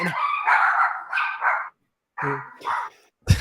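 Dogs barking in several short bursts with brief yips, fairly close and loud, separated by pauses, with no talk over them.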